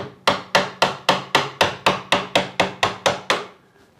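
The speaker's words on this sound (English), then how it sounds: "you just tap the hinge out like that" A screwdriver taps a metal hinge pin out of a wooden door in about thirteen quick, evenly spaced sharp knocks, close and crisp, then it stops.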